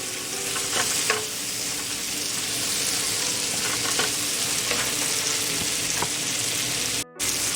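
Shredded cabbage and spices fry over high heat in a pan, a steady loud sizzle throughout with occasional stirring scrapes, alone with no talk.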